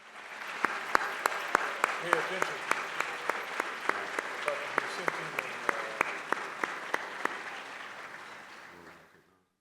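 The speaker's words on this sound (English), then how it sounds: "please give them a thunderous round of applause" An audience at a women-in-leadership awards event gives a long round of applause for standing board members, dense and sustained with regular sharp claps cutting through before it fades; a voice briefly speaks over it.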